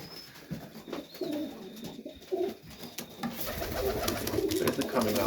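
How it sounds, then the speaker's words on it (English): Pigeons in a loft at evening cooing in low, repeated soft calls, fairly close, with wing flutters and rustling building toward the end, while a person talks in between. "Birds are coming up alright."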